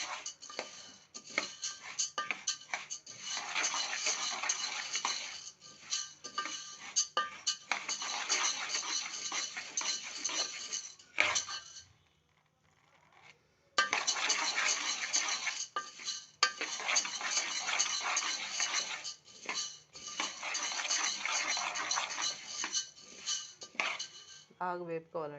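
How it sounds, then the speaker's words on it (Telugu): Urad dal mixture roasting in a pan for minapa sunnundalu, with repeated scraping and stirring of a utensil against the pan in long busy stretches, a brief pause midway, close and fairly loud. "బాగా వేపుకోవాలండి, ఇంకా వేగలేదు."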